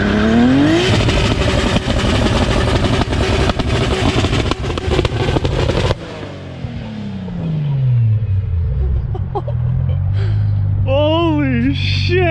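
A big-turbo 2JZ-engined car doing burnouts and 2-step launches: a loud, sustained roaring rev with crackling pops, cutting off abruptly, then a falling engine drone and rising, wavering whines as it winds back up.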